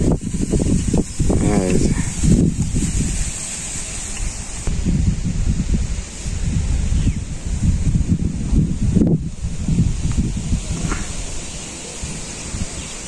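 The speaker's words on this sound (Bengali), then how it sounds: "এখানে প্রচুর বাতাস, মেঘলা আকাশ করছিল, এর লেগে যে বাতাস উঠছে।" Strong wind under a cloudy sky on a Bangladeshi farm buffets the microphone in steady gusty rumbles, with people talking intermittently underneath.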